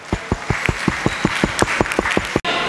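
Audience applause at a green technology conference in a hall, with distinct claps in a steady rhythm close by, fairly sparse rather than a dense roar, then a brief dropout near the end.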